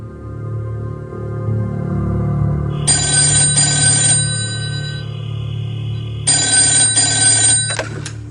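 A telephone bell rings in two loud, sustained bursts, a pause between them, over a steady low background drone with no talk.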